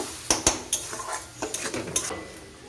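Chicken keema masala with a little sugar is stirred in a pan, giving a series of sharp metal clinks and scrapes from the spatula over a faint sizzle, close and irregular.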